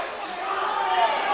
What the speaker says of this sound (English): That's why we're getting a lot of cheering over on this mat